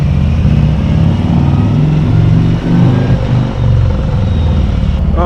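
A 2019 Harley-Davidson Street Glide motorcycle pulls away and rides on, its engine a loud, close, continuous throaty rumble with rising and falling revs as it moves through the gears.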